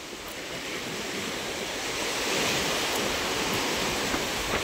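Steady roar of surf washing onto the shore, broad and continuous with gentle swells in loudness, wind mixed in.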